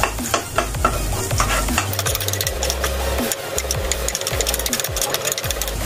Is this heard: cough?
no